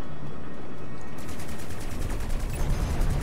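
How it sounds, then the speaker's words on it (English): Machine gun fire from a spacecraft in the space combat game Strike Suit Zero, a dense, continuous rattling barrage that grows louder and heavier in its second half. "Let's actually try machine guns on them."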